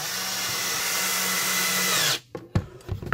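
A power drill drives a 1 5/8 inch screw into wood for a folk art snowman, whining steadily at close range for about two seconds before stopping, followed by a few knocks and handling sounds.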